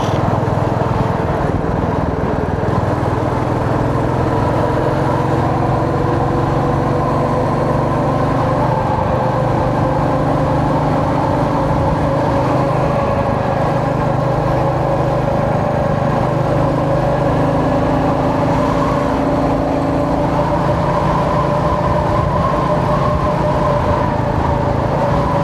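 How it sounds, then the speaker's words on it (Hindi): A motorcycle engine drones steadily on a divided highway during a long ride from Manali to Patiala, a constant close hum with wind rush and no pauses, heard from the rider's position. "इसलिए मैंने तो बाइक खींचा है भाई"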